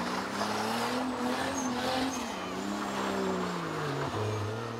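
A race car at a mountain race brakes hard and skids, its engine droning loudly with shifting pitch alongside a sustained tire squeal, close and continuous.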